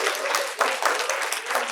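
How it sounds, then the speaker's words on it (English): Audience applause at an academic book launch, a short burst of dense, steady clapping from a seated crowd, fairly close and continuous with no talk over it. "can you please give them all a round of applause?"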